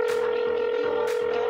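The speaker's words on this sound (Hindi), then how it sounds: "शॉन गुल्ली को फोन लगाता है" A telephone call rings out as a steady electronic tone, loud and continuous, with a repeating low pulse beneath it and brief bright bursts.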